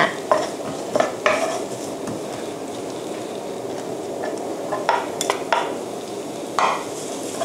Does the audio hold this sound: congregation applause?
no